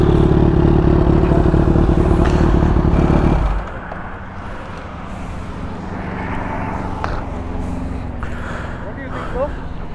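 Loud, steady roar of a Kawasaki H2 Carbon motorcycle engine idling close by, cutting off abruptly partway through, after which people keep talking over lower background traffic rumble.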